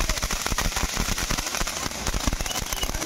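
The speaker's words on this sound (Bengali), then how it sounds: "তো এখন বাজি ফাটানো চলছে।" Dense rapid crackle of firecrackers bursting outdoors, a continuous loud string of sharp pops with no pauses and no voices.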